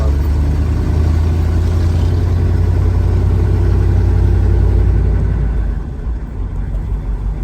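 A diesel pickup truck engine runs steadily with a deep, loud, continuous rumble and drone, settling slightly quieter near the end, with no voices.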